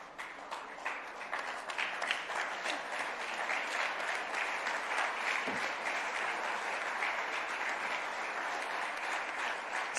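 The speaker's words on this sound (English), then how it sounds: "it cannot be recognized without a standing ovation" Standing ovation at an awards event honouring the Chandrayaan-3 project director: a large crowd claps continuously, building slightly in the first seconds and then staying full and sustained for the whole stretch, with no voices over it.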